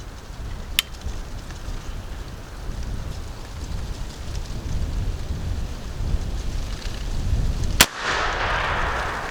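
A sharp report from an AEA Element Max .457 custom deer rifle near the start and another loud, close shot near the end, two single blasts over steady outdoor wind and ambient noise.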